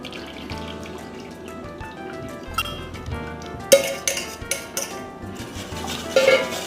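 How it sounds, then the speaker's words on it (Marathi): Batter mixture pressed through a metal sieve with a spoon, heard as close scraping, clinks and taps of utensils against the strainer and bowl, with sharper knocks in the second half and no talking. "आता हे मिश्रण आपल्याला चाळणीमध्ये गाळून घ्यायचं आहे,"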